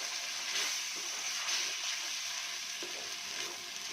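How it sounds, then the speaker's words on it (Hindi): Tomato and spice masala fries in a pan while being stirred, a continuous close sizzle with scraping stir sounds and soft wet bubbling throughout. "मसाले को अच्छी तरह भूनें।"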